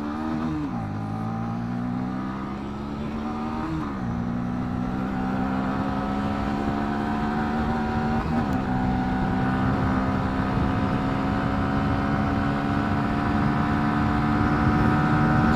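A Bajaj Pulsar NS160 and a KTM Duke 200 launch a drag race, engines revving and rising through several gear shifts in a steady, building drone close to the rider, with no talking.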